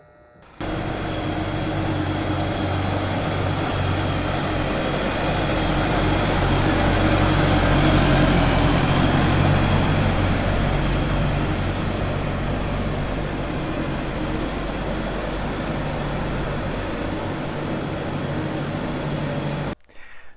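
A tractor pulls a Ground Hog arena drag tool through hard, cloddy arena dirt, its engine drone and the grinding of the drag forming a steady, loud, continuous roar that swells slightly mid-way, with no one talking.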